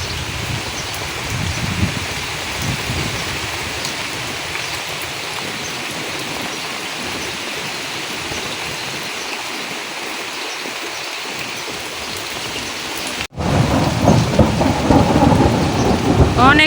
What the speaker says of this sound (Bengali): অনেক বর্জ্যপাত হইতেছে একবারে জুড়ে জুড়ে।